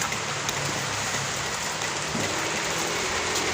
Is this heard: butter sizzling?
no